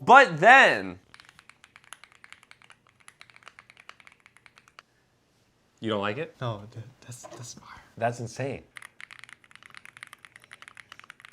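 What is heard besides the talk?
mechanical keyboard typing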